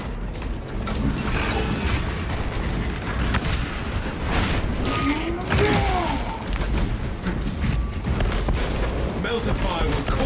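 Melter thermal weapon fire in Warhammer 40,000 Space Marine 2: a sustained, roaring, crackling blast with heavy mechanical clanks and booms in a tunnel battle, while game voices speak over it.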